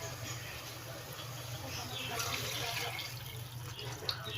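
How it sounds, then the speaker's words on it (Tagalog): Water pours steadily into a cooking pot of chicken tinola under a low, constant background hum, with faint splashing throughout. "lagyan na natin siya ng tubig"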